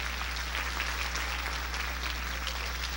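Churchgoers clap their hands during a Sunday evening service, a steady, fairly dense clapping over a constant low electrical hum, as if from an old recording.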